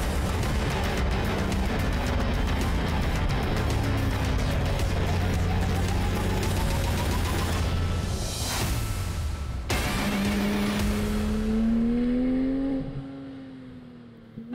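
A Porsche 911 GT3 RS, a track-focused sports car, revving hard at full throttle, then lifting off as the engine note drops and settles, loud and close with a rough, steady roar.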